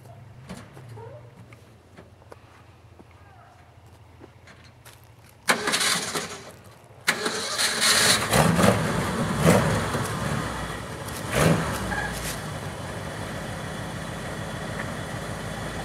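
A truck engine cranks and starts during an off-road winch recovery with a Hi-Lift jack, surging loudly and then settling into a steady, close idle.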